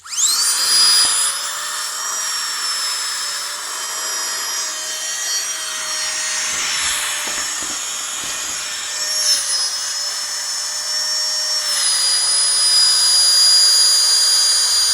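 A small electric pump inflates a camping sleeping pad with a loud, continuous high whine close by, its pitch dipping slightly partway through and holding steady, with no voices.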